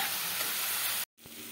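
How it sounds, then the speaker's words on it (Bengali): Spice paste sautés gently in a pan over a low flame, a close, steady hiss of frying that cuts out for a moment near the end and then resumes more softly. "এবারে মশলাটা আমি ধীরে ধীরে একদম লো ফ্লেমে মশলাটাকে আমি কষিয়ে নেব।"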